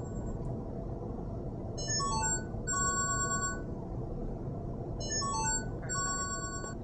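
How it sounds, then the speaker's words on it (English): A cell phone ringtone chimes in two short melodic bursts of bright tones over a steady low background hum, fairly faint and indoors. "when someone's calling me, I can see the light on the screen and the sound of the ringtone."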